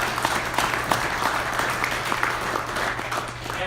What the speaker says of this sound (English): So let's give the panel a big round of applause.